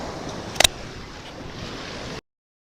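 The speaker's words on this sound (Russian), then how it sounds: "если взять масштабно, то это Тихий океан" Waves from the Pacific Ocean wash steadily against a rocky shore, with wind noise against the microphone and a brief sharp knock near the start.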